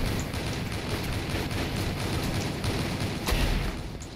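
Gunfire crackles through a shooting match in the video game Avatar Star, a dense, continuous rattle of close shots with one sharper, louder burst near the end.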